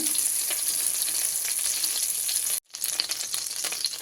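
Cut paneer cubes fry in butter and oil in a pan, a steady, fairly quiet hiss and crackle heard up close, briefly cut to silence partway through before the sizzle resumes.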